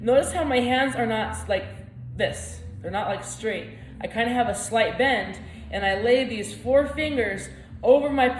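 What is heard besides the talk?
No everyday noises stand out.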